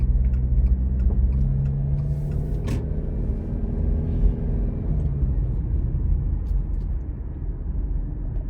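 A car driving with its aftermarket exhaust removed and the stock exhaust installed gives a low, steady road rumble and engine drone heard from inside the cabin, subdued and even throughout, with no talking.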